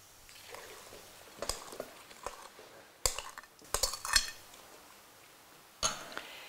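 Vanilla seeds being stirred into jam in a bowl, heard as scattered clinks and scrapes of a utensil against the bowl, irregular and close, with quiet pauses between bursts.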